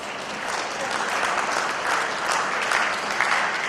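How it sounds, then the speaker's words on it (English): A crowd applauds at a spring national cattle show after a class of red and white heifers is judged, the clapping steady and fairly loud for a few seconds without talk. "Let's give them a round of applause"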